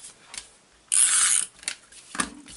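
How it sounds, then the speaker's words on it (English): A tape runner lays adhesive onto card in one close, rasping half-second pull, framed by soft handling clicks and taps. "I'm just going to use a tape runner"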